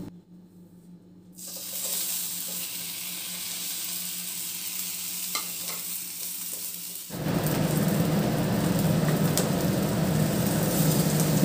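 Tomatoes frying and being stirred in a pan while making Sambalpuri khata hendua (bamboo shoot curry): a steady close sizzle that swells louder and denser partway through as the mix is stirred, with no talking.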